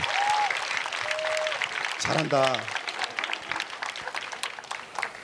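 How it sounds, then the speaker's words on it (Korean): A young adults' Sunday worship congregation at a Korean church applauds to welcome pastor Kim Mun-gyeom, a broad, steady clapping crowd with voices calling out over it. "김문겸 목사님을 박수로 모시도록 하겠습니다."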